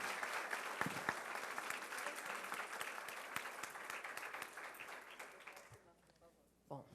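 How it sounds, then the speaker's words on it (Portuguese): Applause fills the hall at the opening of an international thalassemia conference, a steady clapping crowd that gradually thins and fades toward the end, where a voice briefly emerges. "então eu queria aqui uma salva de palmas e um agradecimento"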